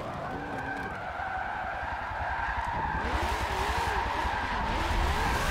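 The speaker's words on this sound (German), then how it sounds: "Junge, du hast einfach bei 180 nur durchdrehende Reifen" A car in Forza Motorsport 7 on the Nürburgring Nordschleife spins its tires at about 180 km/h, producing a loud, continuous wavering squeal and skid over a steady engine roar that builds slightly toward the end.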